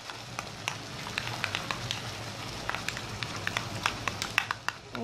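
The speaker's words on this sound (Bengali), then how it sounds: "তৈরি পেস্টটি আমি এই পেঁয়াজের সাথে ভুনে ফেলব।" Spice paste of ginger, turmeric, chili and coriander frying with onions in a pan gives a steady sizzle dotted with frequent sharp crackles and pops. It sounds close and moderately loud, with no talking.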